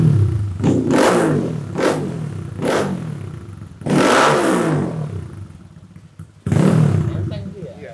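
A Kawasaki KLX 140 R trail motorcycle engine revs in several sharp bursts, loud and close, with people talking between and over the throttle blips.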